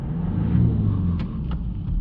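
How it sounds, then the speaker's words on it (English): A Subaru Outback 2.0 boxer diesel with a blocked DPF revved briefly, a low steady engine rumble close by that swells slightly and then settles, with no voices. "Let's give it a rev."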